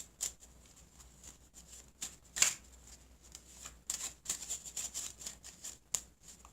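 A deck of playing cards is shuffled for a magic trick, giving a string of crisp riffles and flicks in uneven bursts, close and fairly quiet.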